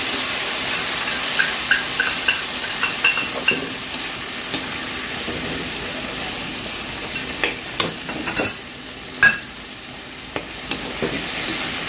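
Ginger-garlic paste fries in a pan for mutton curry, giving a steady hiss and sizzle broken by repeated scrapes and clacks of a stirring spoon, growing busier toward the end, close and with no talking.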